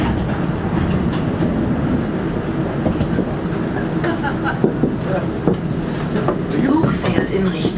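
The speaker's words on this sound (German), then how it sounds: "This train is proceeding to Terminal A, B, C." The Düsseldorf Sky Train rolls along its elevated airport track with a continuous rumble, clicking wheel joints and occasional squeaks, close and loud, while people talk faintly in the car.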